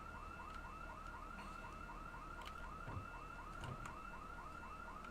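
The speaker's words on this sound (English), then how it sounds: "I can hear an alarm going off." A car alarm goes off in the Project Zomboid video game, a faint, far-off siren repeating a quick rising whoop about every quarter second, with a couple of soft clicks over a low background hum.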